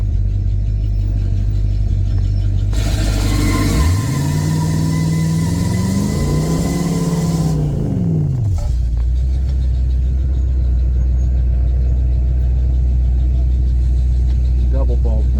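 A Pontiac LeMans with a 400 engine idles and rumbles steadily at a drag strip while lined up against a C10 pickup, with a revving engine rising and falling mid-way and people talking over the constant drone.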